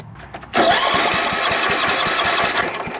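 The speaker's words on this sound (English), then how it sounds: "Let me let you hear the thing." A lawn tractor's small engine cranks without choke, with a steady whirring starter and rhythmic chugging pulses, but never catches, loud and close for a few seconds.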